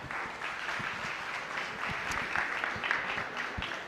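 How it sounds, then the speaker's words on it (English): A conference audience claps for a presenter coming on stage at a blockchain event in Brooklyn, steady moderate applause from a room crowd with individual claps standing out, lasting several seconds. "Everybody, can we get a round of applause for JD, please?"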